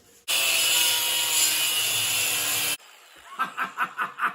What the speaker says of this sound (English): the best part about this idea is I get to use the angle grinder. Time to get cutting.